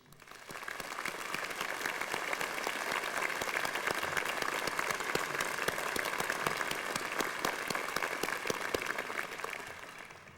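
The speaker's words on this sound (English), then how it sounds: "Please join me in applauding these exceptional teachers." A large ceremony crowd claps for university teaching award recipients at a 1996 commencement-style gathering, an even, continuous roar of many hands sustained for ten seconds, slightly distant, with no talk over it.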